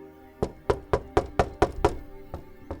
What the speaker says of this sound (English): He knocked once again